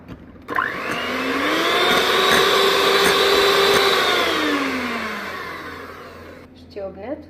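An electric mixer beating a batter of eggs and vanilla for croquant cookies: the motor whines up sharply, holds a loud steady drone for about six seconds, then winds down and stops, with a brief voice after it.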